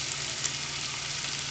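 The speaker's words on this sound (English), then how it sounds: "Like bacon. Sizzle some." Bacon sizzles in a frying pan, a steady dense hiss of hot fat crackling that holds evenly through a brief moment.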